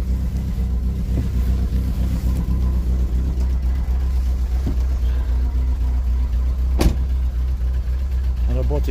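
A Volkswagen Golf petrol engine running on three cylinders idles loud and close with a steady yet lumpy low rumble, broken by one brief sharp click.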